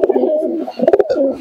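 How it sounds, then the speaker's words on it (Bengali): A female Jiriya pigeon coos in soft, rounded low notes, a rolling murmur with a short burst of quicker pulses near the end, heard close up. "এই একটা জিরিয়া কবুতর,"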